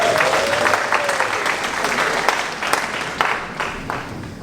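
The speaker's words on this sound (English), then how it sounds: "Let's give another round of applause for contestant number" Steady applause from a pageant audience fills the room for a contestant, a dense wash of clapping at an even level that eases slightly toward the end.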